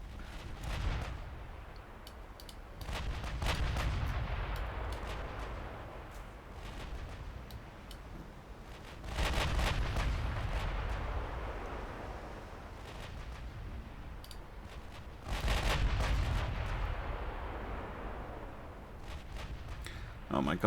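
Naval gunfire from destroyers caught in a World War II strategy game battle at Ironbottom Sea: heavy rolling booms in repeated waves with sustained rumbling between them, while a person talks over the action.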